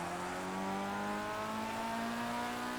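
A steady, high-pitched race car engine whine in the video game Project CARS, heard from an outside view of the car, holds at constant revs, droning evenly, with a faint shift in pitch partway through.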